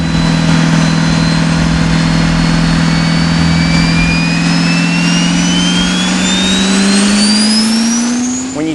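Diesel truck engine roaring at full load on a dyno at a diesel shootout event, a loud sustained drone with a steadily rising pitch as the revs climb over several seconds, then easing off at the end.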